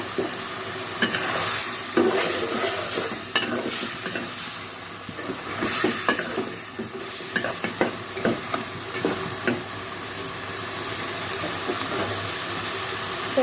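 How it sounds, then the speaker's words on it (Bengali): Onion and garlic frying in a pan for a beef kosha dish, a steady sizzle and hiss throughout with repeated scraping of a spoon stirring through the pan, close and fairly loud, no talking. "পেঁয়াজ রসুনটা আমি দিয়ে দিয়েছি এখন পাঁচ মিনিট রান্না করবো"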